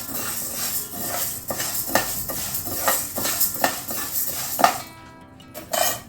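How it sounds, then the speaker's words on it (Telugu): Raw rice and urad dal being dry-roasted in a pan with a small spoon, giving steady clinks and scrapes of metal on metal over a soft sizzle, close and fairly loud, no voices. "ఇప్పుడు 2 స్పూన్లు చిన్న టీ స్పూన్తోనే 2 స్పూన్ల బియ్యం వేసుకొని దీంట్లోనే వేయించుకుంటున్నాం."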